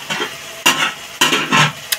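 Spice masala with tomato frying in a pan as a spoon stirs it, short scraping strokes over a constant sizzle, close and fairly loud.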